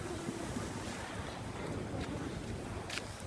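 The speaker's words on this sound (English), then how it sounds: "Oh, watch out for the wave." Ocean waves washing onto a beach on the Fourth of July, a constant close roar of surf mixed with wind buffeting the microphone, with no talking.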